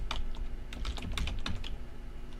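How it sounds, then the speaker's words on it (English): Quick bursts of typing on a computer keyboard: irregular clusters of crisp key clicks close to the microphone, with short pauses between runs. "We can type in nothing, Joe at"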